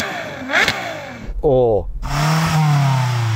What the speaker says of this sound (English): Can I have a listen to the Ferrari, please? Let's hear that Italian music.